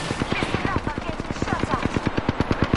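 Rapid automatic gunfire in a video game, a fast steady stream of close, punchy shots that runs the whole time, with voices talking faintly underneath.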